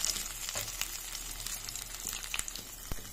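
Beetroot bread roll balls frying in hot oil in a pan, a soft continuous sizzle with faint bubbling and a few light taps of turning, quiet and close.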